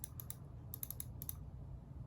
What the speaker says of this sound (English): That's what mouse clicks sound like.